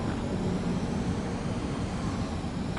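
A plane's engine in a video game as the aircraft attempts to land: a loud, constant droning roar that holds steady and fills the whole moment, with no voices over it.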